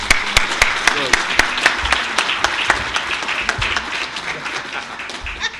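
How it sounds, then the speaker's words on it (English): At a Jamaican customer service award ceremony, an audience claps loudly and steadily for several seconds, with sharp individual claps standing out before the applause thins toward the end. "please give her another round of applause"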